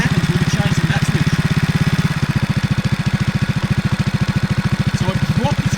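A Beta EVO 300 4T motorcycle engine idling at lowered revs, with loud, close, rapid even thumps that slow slightly partway through and then hold a steady beat.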